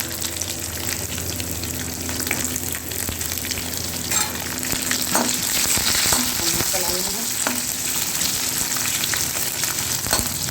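Onion frying in hot oil with cumin seeds and dried red chili for a sambar tempering, a steady close sizzle with scattered stirring scrapes and pops, no talking.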